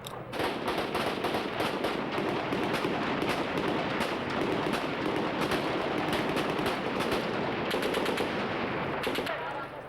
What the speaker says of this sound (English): Tanks replied, machine gunning the buildings where it's believed the snipers are hiding.